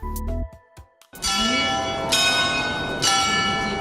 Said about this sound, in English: the church bells are certainly more tonal than the ambulance